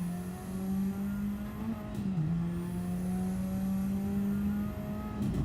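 A race car's engine is driven hard through a flying lap in a same-car race, giving a steady, high-revving howl with brief dips as it shifts and lifts, close up and alone.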